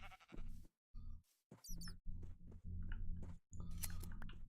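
Sheep in modded Minecraft, short game bleats and chewing-like clicks in a choppy series of bursts separated by brief silences, fairly close and clear.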